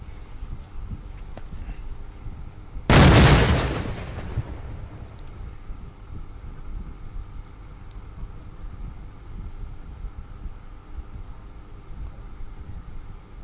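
A para bomb detonated by a bomb disposal squad in the Namkum area of Ranchi: one loud, sudden blast that booms and rumbles away over a couple of seconds, then steady background noise.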